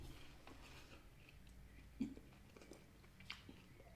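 Crispy shrimp spring rolls are bitten and chewed close to the mic, with a sharp crunch near the middle, a smaller crackle later and soft chewing throughout, quiet overall.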